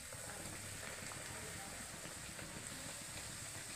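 Pea-stuffed kachori frying in hot oil, a steady close hiss and sizzle with no breaks, fairly faint.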